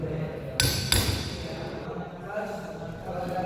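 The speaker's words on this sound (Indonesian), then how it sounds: "dengan memukul menggunakan palu." A hammer taps an alternator component into place during a charging-system inspection, two sharp metallic knocks close together near the start, then only workshop background noise.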